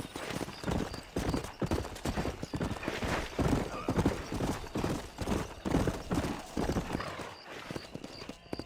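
A horse galloping in the Red Dead Redemption video game, with fast, rhythmic hoofbeats throughout, close and steady, and a brief neigh amid the pounding.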